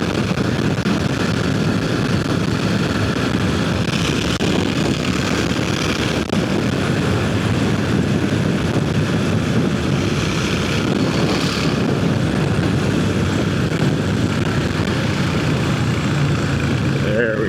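Triumph Thruxton R motorcycle ridden hard at high speed on a road, a loud, steady engine roar mixed with heavy wind rush throughout, with no break in the noise.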